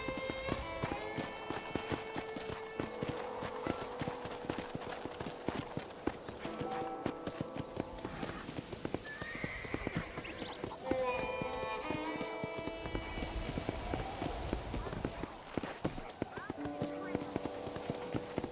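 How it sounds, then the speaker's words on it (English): Hooves clip-clop at a gallop in the Red Dead Redemption video game, a fast steady patter mixed with tack jingles and game music. A character talks over it for the whole stretch. "let's see if you can still ride a horse"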